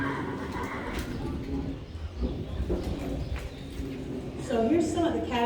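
Anxious horses at a colt starting competition at the River Valley Horse Camp, with a whinny rising near the end over busy outdoor background noise, hoof sounds and bird cooing, under someone talking.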